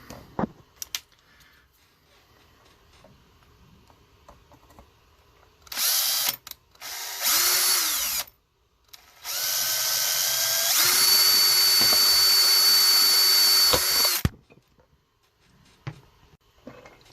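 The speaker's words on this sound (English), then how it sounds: "I do is get my drill and I'm going to drill out." Power drill boring out holes in a Christmas light control box, coming in several bursts of high whining drilling separated by pauses, the final run long and steady, close and loud.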